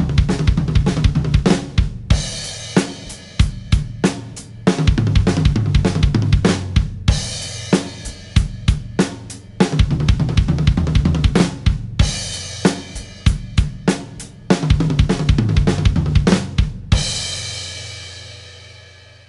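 A drum kit plays a fast 16th-note triplet pattern in repeated bursts, with rapid rolling strokes, accented cymbal crashes and short pauses between phrases, loud and close with no talking, ending on a ringing cymbal.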